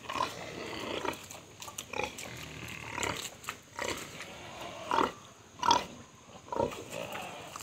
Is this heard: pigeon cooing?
no